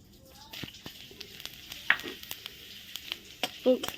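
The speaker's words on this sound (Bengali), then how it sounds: "মাছের শুকনো লঙ্কা আর জিরে ফোড়ন দিয়ে দিলাম" Dried red chilli and cumin seeds tempering in hot oil over a wood-fired clay stove, a soft crackling sizzle with scattered sharp pops and clicks of a spoon against the pan.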